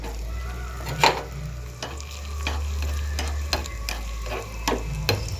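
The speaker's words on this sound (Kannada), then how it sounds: "ನಾನೀಗ 1 ಸ್ಪೂನ್ ತುಪ್ಪ ಹಾಕಿದ್ದೆ ಕರ್ಗಕ್ಕೆ. ಈಗ ನೋಡಿ, ಗೋಡಂಬಿ ದ್ರಾಕ್ಷಿ ಹಾಕ್ಕೊಳ್ತೀನಿ" Cashews and raisins fry in a spoonful of ghee for gasagase payasa, a soft steady sizzle with a low hum beneath and occasional sharp stirring scrapes and clinks of a spoon against the pan.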